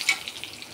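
Mustard seeds, cumin and dried chillies fry in hot oil with a light, steady sizzle and soft crackles, a brief stir near the start, close and fairly quiet with no talking.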